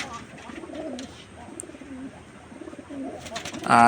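Pigeons coo in a pigeon house, a steady run of low, wavering coos repeating close by, with a brief louder rustle at the very end.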